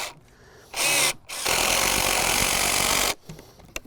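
A power drill drives screws into deck wood, close and loud, with one short whirring burst followed by a longer sustained run of motor and grinding noise before it stops.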